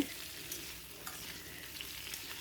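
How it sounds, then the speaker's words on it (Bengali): Boiled potatoes fry with green jackfruit in a pan, giving a soft, even sizzle with light stirring that stays fairly faint throughout. "তারপরে সেদ্ধ করা আলু দিলাম ভালো করে বেজে"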